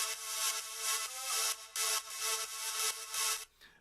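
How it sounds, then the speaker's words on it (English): A bright, high synth lead in Ableton plays a run of sustained, harmonically rich notes in rhythmic bursts, loud and close, with brief gaps between phrases and no voices. "So that's just your high synth on top."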